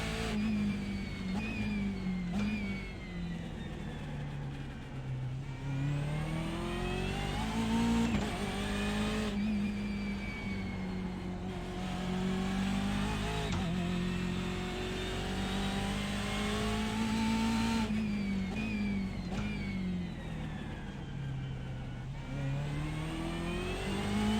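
A BMW M8 GTE race car in iRacing laps Sebring, its engine accelerating through rising gear pulls and brief shift dips, a continuous loud, close drone that climbs and drops in pitch repeatedly with faint tire squeal.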